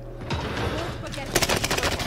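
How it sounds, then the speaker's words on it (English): Video game gunfire crackles in a quick burst of shots near the end, following a stretch of steady background game noise. "Under hostile fire."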